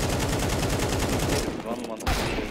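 Rapid gunfire from Counter-Strike 2 gameplay, a dense burst of repeated shots running steadily for about a second and a half before a brief lull and one more loud crack, close and loud with no speech over it.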